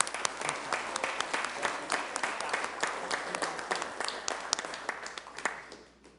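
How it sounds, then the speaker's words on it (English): Audience applause at a Sioux Falls city council meeting honoring the community health center, steady dense clapping from a room of people that tapers off near the end. "Let's give them a round of applause"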